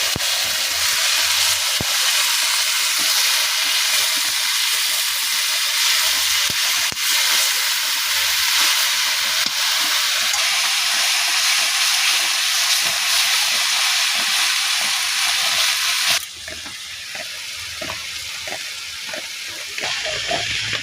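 Greens (saag) hit hot oil in a wok (kadai) seasoned with dried chilies and garlic, giving a loud, steady broadband sizzle and hiss that runs continuously, then drops somewhat in level near the end as the frying settles.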